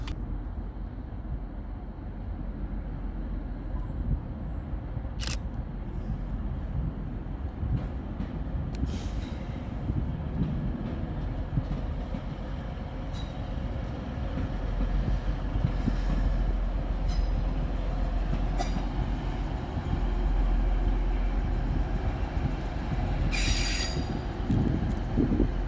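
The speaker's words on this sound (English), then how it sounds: "Arriving to terminate with a Transpennine Express service off of Huddersfield is" TransPennine Express unit 185105 pulls into Manchester Piccadilly from Huddersfield, a steady rumble of wheels and engine with brief high squeals of braking wheels, continuous and fairly close in a busy station.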